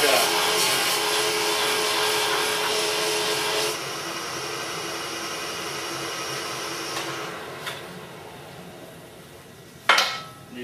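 A Burr King 760 belt grinder for knife sharpening hums and whirs steadily with a broad motor drone, easing slightly, then a couple of clanks near the end.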